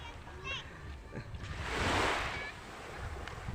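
Ocean surf washes onto the seashore at Sitio Recudo, where children play along the beach. A broad, hissing swell builds and peaks midway, then recedes under steady wind noise, with faint voices in the background.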